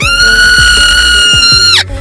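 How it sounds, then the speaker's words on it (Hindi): A groundhog screams after being caught, a loud, sustained high-pitched shriek lasting almost two seconds before it cuts off sharply, with a few soft thumps beneath it. "जब कोई इनको पकड़े तब ये लड़कियों की तरह चीखना शुरू कर देते"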